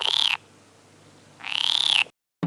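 A frog croaks in two long, loud rasping bursts close by, separated by a short quiet gap, with the start of a third call cut off at the end.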